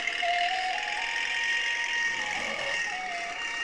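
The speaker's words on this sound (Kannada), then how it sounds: "ಹಿಂದಿ ಟ್ರ್ಯಾಕ್ಟರ್ ಅದ" A tractor engine runs nearby with a steady, loud mechanical drone and some knocking texture, holding constant for a few seconds with faint tonal whines riding over it and no speech.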